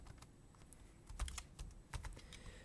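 Keys clatter on a computer keyboard in a short burst of quick, irregular taps, close and fairly quiet, with a couple of heavier strikes in the middle and no talking.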